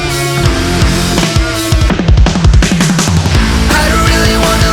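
Dense full-band rock, with driving guitars and drums at steady loud volume, a brief stop-start punchy section in the middle, then the full band carrying on.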